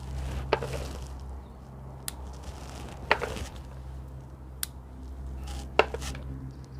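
Ripe chili peppers being snipped from a potted plant, with a handful of sharp, separate clicks of cutting spaced a second or so apart over a steady low hum.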